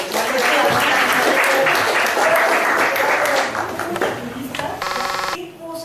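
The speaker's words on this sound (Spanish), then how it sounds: "Un aplauso para quien trajo." A crowd applauds loudly and steadily for several seconds, the clapping thinning out toward the end as a few tonal pings ring out.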